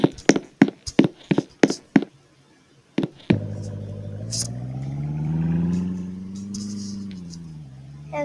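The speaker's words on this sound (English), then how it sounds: "This truck is pretty new, so I better not crash it." A truck in the Roblox game Brookhaven: a string of sharp taps and clicks first, then the engine starts and hums steadily, rising and falling in pitch as it drives, fairly loud and close with no talking.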